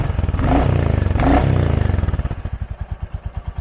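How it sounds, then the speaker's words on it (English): A 2023 Royal Enfield Classic 350 single-cylinder motorcycle engine revs twice, rising and falling, then settles back to a steady, rhythmic thumping idle close by. "So I'll give a couple small revs for you."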